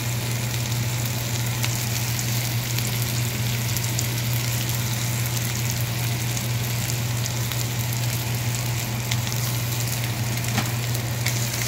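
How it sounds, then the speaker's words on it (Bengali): Onion frying with ginger-garlic paste in a kadai, a constant dense sizzle and crackle heard up close, with a low steady hum beneath and occasional sharper pops, no voices. "পেঁয়াজটা একটু ভাজা ভাজা হলে এর মধ্যে দেবো একটু আদা রসুন বাটা।"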